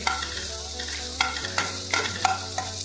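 Soya chunk curry sautés in a pan with coriander added, a soft continuous sizzle broken by several sharp scraping stirs of a utensil against the pan at irregular intervals.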